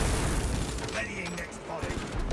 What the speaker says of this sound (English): This guy shooting you at point blank is fucking annoying though.